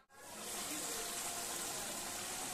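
Doi katla, a katla fish curry in yogurt gravy, boils thickly in a pan with a dense, steady bubbling hiss that stays close and even throughout, with no voices.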